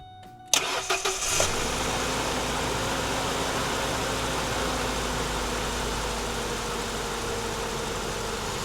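An 80s–90s Ford truck engine cranks briefly with a few sharp starter bursts, catches, then settles into a steady, even idle after a Saginaw power steering pump retrofit, heard close with no talking.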